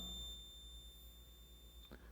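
A multimeter gives a steady high continuous beep while probing the lid-closure circuit of a Brastemp washing machine, fading out near the end with a brief clatter.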